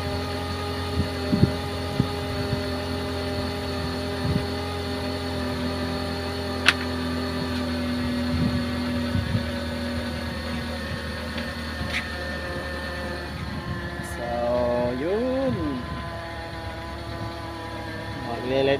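A car engine warming up at idle: a steady low hum throughout, with faint scattered background noises and brief tonal sweeps near the end.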